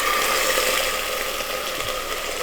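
Oil drilling machinery runs at an American oil company site, a loud, continuous mechanical roar with steady clattering and grinding texture, heard alone without talk.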